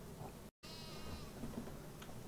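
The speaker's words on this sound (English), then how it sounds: "there is a goat there, there is baby goats round the back there" Goats and sheep bleat faintly in a Farming Simulator 25 pasture, one thin bleat over a steady ambient background.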